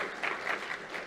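A SIGGRAPH 2017 conference audience at a talk on VR production claps softly; the applause is faint and distant, a steady, even patter that lasts the whole moment without any voices over it.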